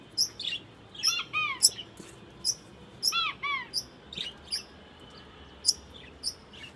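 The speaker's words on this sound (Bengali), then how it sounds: "ওইদিকে কোয়েল গুলো ডাকতেছে।" Quails kept in a balcony setup call at night with repeated sharp chirps and short warbling trills, in clear bursts over a quiet, low background hum, with no talking.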